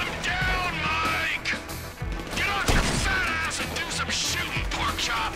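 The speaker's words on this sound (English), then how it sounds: "Sniper fire!" Sniper gunfire rings out in the video game Grand Theft Auto V, sharp cracks and bangs scattered through a busy mix of game effects and voices.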